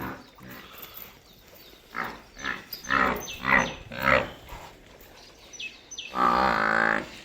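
Water buffaloes being herded into their shed on a farm, a series of deep, drawn-out bellows and grunts close by, ending in one loud, long call.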